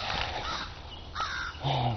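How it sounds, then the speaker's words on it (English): Crows cawing outdoors, a few harsh calls that rise and fall against steady background noise, moderately loud with no speech over them. "Crows."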